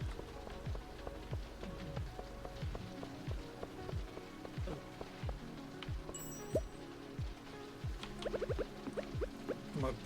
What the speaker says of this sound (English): That thunderstorm tore my farm up